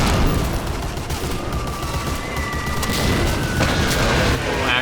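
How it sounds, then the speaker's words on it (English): Sniper rifle gunfire in the Medal of Honor Warchest video game, heavy booming shots over dense, loud battle noise that fills the whole stretch. "Like how long it takes to actually fire again, but whatever. That's the thing with a sniper rifle."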